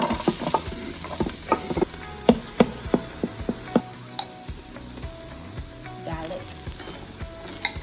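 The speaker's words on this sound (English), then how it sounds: "Just give that a quick stir for about a minute" Garlic is stirred in an Instant Pot on the saute setting after sausage has been browned and the grease drained. It makes a steady sizzle, with sharp spoon-scraping clicks and taps recurring irregularly throughout.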